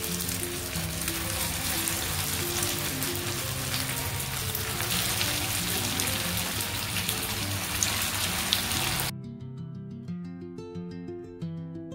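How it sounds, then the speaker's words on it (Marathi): Potato tikkis shallow fry in hot oil, a dense, steady sizzle and crackle that fills most of the stretch before cutting off abruptly, leaving near quiet. "त्याला आपण सॅलो फ्राय करून घेऊयात। तर आपण आता ह्यामध्ये एक एक करून आपल्या टिक्क्या घालूयात।"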